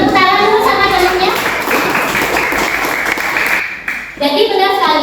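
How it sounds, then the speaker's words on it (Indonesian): Children in an elementary science classroom clap for a classmate, a brief burst of uneven hand claps in the middle, with voices talking just before and after. "beri tepuk tangan dulu sama temannya"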